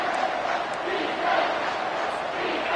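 A packed stadium crowd in College Football 25 roars and cheers continuously on a big third down, a dense, loud wall of voices with no commentary.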